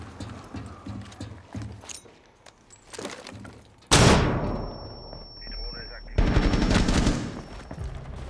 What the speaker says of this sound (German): Ich schmeiß eine Blendgranate rein